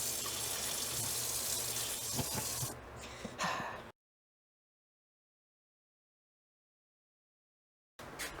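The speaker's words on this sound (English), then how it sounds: "But here you go, here's some cold water." Cold water runs from a tap into a steel sink in a steady, rushing splash for a few seconds, then tapers and cuts off into silence.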